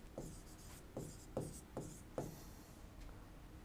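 Chalk or marker strokes on a classroom board during a history lesson, five distinct scratchy writing bursts in a steady rhythm, close and fairly quiet with no talking.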